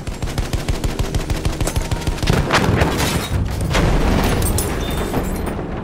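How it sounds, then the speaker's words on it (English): Pom-pom anti-aircraft guns fire in Battlefield 1 on the Zeebrugge map, starting as a rapid, steady thumping burst of rounds and then giving way to denser, louder overlapping gunfire and blasts. "I'm seeing pom-pom guns!"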